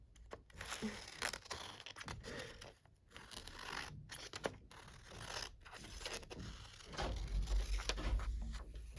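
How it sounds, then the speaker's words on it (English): Scissors cut through paper while making a paper fortune teller, close crisp snips and rustling paper with irregular rhythm, fairly quiet with a low background hum. "So you get your scissors and you cut it."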